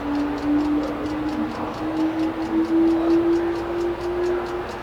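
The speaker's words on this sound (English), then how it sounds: "It's still ticking." A steady, regular ticking repeats throughout, close and clear, with a sustained tonal hum running underneath and no talking.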